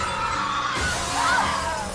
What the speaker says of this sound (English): The glass floor shatters.